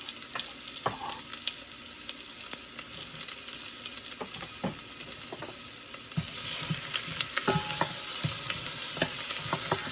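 Shallots roasting in a pan for shallot soup, a steady close frying sizzle with scattered pops and stirring clicks that swells louder in the second half.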